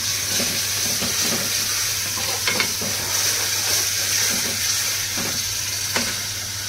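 Tomato paste fries with a steady, close sizzle and hiss in a pan while a spoon stirs it, giving soft scraping strokes at irregular intervals during a dish of tender cashews. A low constant hum sits underneath, and no one speaks.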